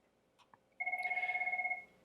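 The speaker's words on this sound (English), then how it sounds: "this headset and the associated phone will ring" A Jabra headset and its paired phone at a trade-event booth ring together: a loud, steady electronic trill of rapid pulses that lasts about a second, preceded by a couple of faint clicks.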